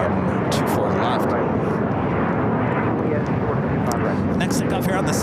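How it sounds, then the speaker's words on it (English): A China Eastern Boeing 777-300ER bound for Shanghai takes off at LAX, a continuous broad jet engine roar, loud and steady throughout, with faint higher whines flickering near the top. "China Eastern, flight 586. Heading back to Shanghai at a 777-300ER."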